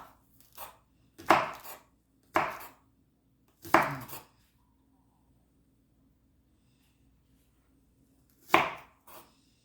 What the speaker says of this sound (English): So I cut up to about right here on the greens